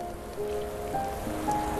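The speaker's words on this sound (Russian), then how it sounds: "Дождь пошел. Не такой уж и сильный." Rain falling in a soft, steady patter, with faint tonal sounds in the background.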